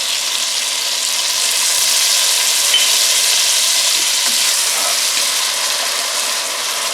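Diced tomato and its juice hit a hot pan of butternut squash and potato Rajasthani curry, giving a steady, loud, close sizzle with a continuous hissing texture from start to finish.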